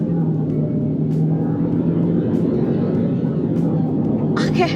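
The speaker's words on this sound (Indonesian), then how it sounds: "sekarang kita cobain 0 sampai 100-nya berapa ya. Sekarang kita gas dulu di sirkuit." Mitsubishi Destinator turbo car accelerating from standstill on a circuit, a steady loud engine rumble heard from inside the cabin with the tone gradually rising, then a brief clatter at the very end.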